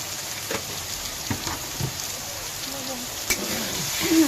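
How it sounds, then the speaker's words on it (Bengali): Ground spices, including chili, cumin and Kashmiri chili powder, fry in oil in a pan with a soft, steady crackling sizzle, while faint scattered clicks and a brief voice sit in the background. "দিয়ে ভালো করে মশলাটা ভেজে নেবো"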